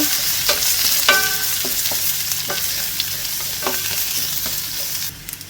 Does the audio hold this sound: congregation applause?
no